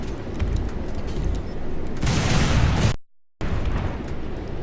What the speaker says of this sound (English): So our main guns will now fire on their own, automatically, without our input.